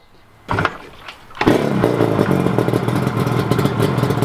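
A Yamaha RZ350 two-stroke motorcycle engine idles steadily during a carburetor sync, after a brief starting burst, with a continuous mid-pitched running note and some mechanical clatter close by.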